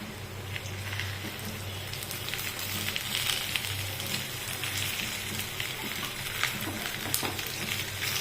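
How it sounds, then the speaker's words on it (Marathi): Dry fruits roast in ghee in a pan over a low flame while being stirred, making a steady close sizzle with light scraping and rustling from the stirring throughout, and no voices. "आपल्याला हे परतवून घ्यायचे हलवत राहायचं"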